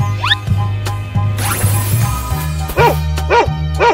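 Several yappy dog barks, including a quick triple burst, play over a bouncy music track, loud and close.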